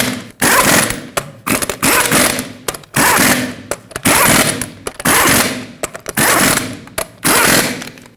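Repeated bursts of a ratcheting mechanical rattle from tightening the rear wheel lug nuts on a 2011-2016 Ford F-350 in a cross pattern, loud and close, with short pauses between runs and no talk.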